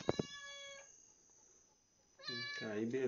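A cat outside an Italian-style pizzeria meows twice, close and clear at the start, followed by a quiet pause before a person speaks nearby.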